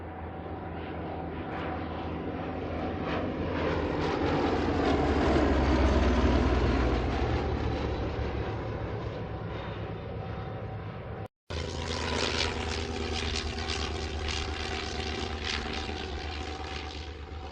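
Spitfire and Sea Hurricane aircraft with Rolls-Royce Merlin engines fly a race day display at Old Warden, a loud sustained propeller-engine roar that swells and fades as they pass, broken by a brief cut.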